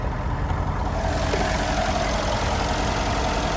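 A 2015 Mercedes-Benz G63's 5.5-liter twin-turbo V8 idles close by with the hood open, a steady deep rumble holding even throughout.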